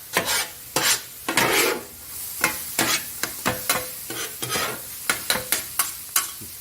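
Cauliflower rice stir-fried in a pan, with repeated brisk scraping strokes of a spatula over a continuous sizzle, close and fairly loud, in uneven bursts.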